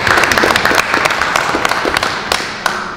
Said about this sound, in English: Guys, a round of applause for him for coming out here today and being here for us